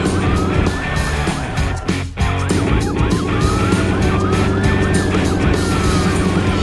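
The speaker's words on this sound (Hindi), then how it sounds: "सायरन की गूंज और पहियों की रफ्तार के साथ" A loud police siren wails up and down repeatedly, its rising and falling tone riding over rumbling traffic and engine noise.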